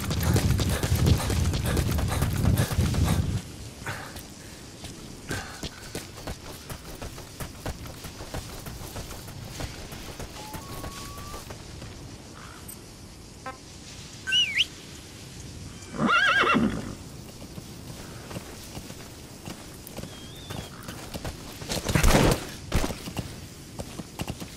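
Horse hooves clip-clop and a horse neighs in Metal Gear Solid V: The Phantom Pain. Several seconds of loud hoofbeats open the scene, followed by quieter ambience with scattered whinnies and snorts.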